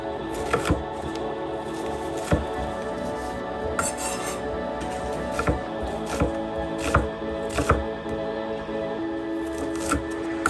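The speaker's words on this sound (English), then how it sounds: "right here I'm slicing some onions." A knife slices onions on a cutting board while prepping a steak and cheese sandwich, giving sharp, irregular taps and knocks against the board, close and clear over a faint background hum, without speech.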